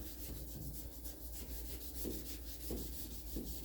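A small hand-held sanding block dry-sands fresh primer during show-car body prep. It makes faint, rhythmic back-and-forth rasping strokes, close and repetitive, with no talking.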